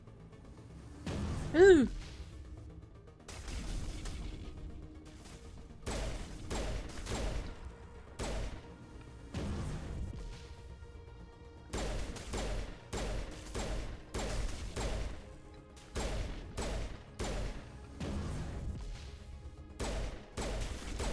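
Gunfire from the Mass Effect video game, with repeated bursts and sharp reports coming in clusters over steady game ambience. A brief exclaimed voice cuts in near the start.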